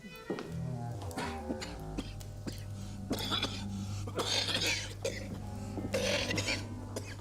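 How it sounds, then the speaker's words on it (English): A man coughs repeatedly in a dim interior, the rough bursts spread across several seconds over a steady low hum, with faint movement and tapping between them. "I would see a doctor about that cough."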